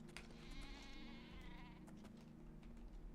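A sheep bleats in the video game Oblivion Remastered, one faint wavering bleat set low in a quiet, steady background.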